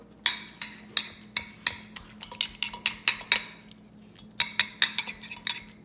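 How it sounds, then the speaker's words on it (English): Potato masher pressing boiled potatoes in a pan for stuffed whole wheat Indian parathas, repeated sharp metallic clinks and thuds in an uneven rhythm, close and clear with no talk. "We're just gonna mash it all together."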